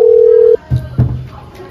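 A steady telephone dial tone holds for about half a second and then cuts off, followed by two short low clicks or knocks as a call is placed in a casual indoor meeting setting.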